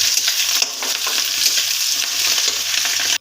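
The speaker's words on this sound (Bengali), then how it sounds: "মাছের ডিমটা কড়াইতে দিয়ে দিয়েছি বন্ধুরা। এবার আমি নুন আর হলুদ তার মধ্যে দিয়ে দেবো, দিয়ে ভালো করে নাড়াবো।" Fish roe frying in a wok with salt and turmeric, a loud, close, continuous sizzle broken by the scraping of a spatula stirring, with no talk.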